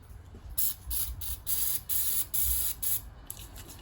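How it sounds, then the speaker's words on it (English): Short bursts of aerosol spray hiss, about five sprays in a loose rhythm, each lasting around half a second, close and fairly loud. "Let's see if I can even get this to spray out"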